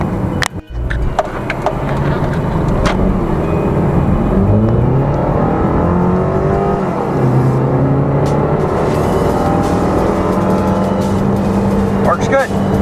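A used car cruising on a test drive, steady road and engine rumble filling the cabin throughout, with voices talking over it.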